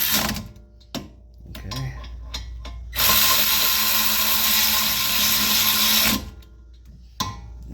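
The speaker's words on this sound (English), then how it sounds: "Always start them by hand, and then you can use the impact." An impact wrench drives rear brake bolts on a 2019 Ford Escape AWD. It makes one loud, harsh burst of about three seconds, with quieter shop sounds and a brief spoken word before and after.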